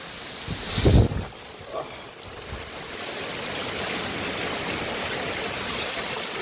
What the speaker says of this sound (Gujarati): સાટા ઉડે ને, પવન બહુ છે ભેગો